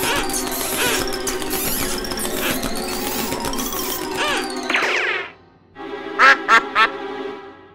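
Cartoon duck quacks from a Pocoyo Halloween episode, a few short, bright quacks close up after a busy stretch of musical cartoon sound that drops away.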